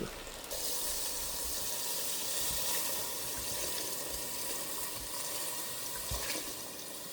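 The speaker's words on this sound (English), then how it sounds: "And now, add in the water." Water pours steadily into a cooking pot for vegan ramen broth, a dense, continuous splashing rush that stays loud for several seconds with no talking.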